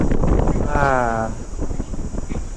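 Strong wind buffets the microphone near the top of the Marble Mountains, a steady rushing roar under a brief passing tonal hum.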